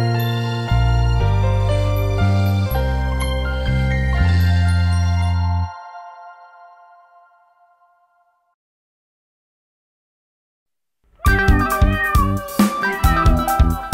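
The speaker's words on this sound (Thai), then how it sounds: "เธอได้ยินเสียงลูกแมวน้อย3ตัวไหม" Kittens meow in a rapid, high, tuneful series lasting several seconds, fading into silence before a burst of bright music with jingling tones begins.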